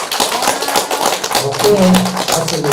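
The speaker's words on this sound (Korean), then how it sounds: "박수 한 번 더 부탁드립니다" An audience applauds a poet at a ceremony, steady dense clapping throughout with voices and a tonal murmur rising underneath midway.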